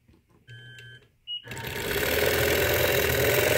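Sewing machine stitching the outer border of a quilt, a short burst of stitching, a pause with a small click, then a long steady run of close, fairly loud stitching.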